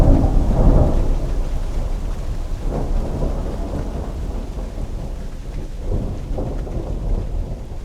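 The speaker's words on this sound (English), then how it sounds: "you can hear clearly in that recording that there's rain falling" A thunderstorm rolls on with deep, rumbling thunder and steady rain falling throughout, loud and enveloping, with swelling rumbles recurring and no talk.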